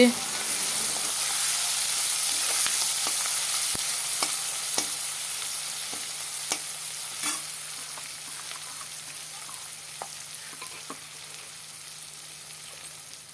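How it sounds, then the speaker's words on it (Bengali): Onions frying in hot oil for a rohu fish dish, a steady close sizzling hiss throughout with scattered light pops and spatula clicks. "তেলটা গরম হয়ে গেল পেঁয়াজগুলো ঢেলে দেব পেঁয়াজগুলো লাল হয়ে যাক"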